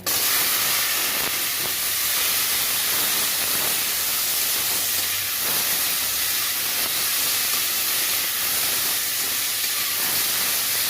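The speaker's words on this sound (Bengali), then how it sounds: "ওই তেলের মধ্যে আমি লাউ দিয়ে দেবো" Loud, continuous sizzling hiss of bottle gourd frying in hot oil, steady and dense throughout with no talking.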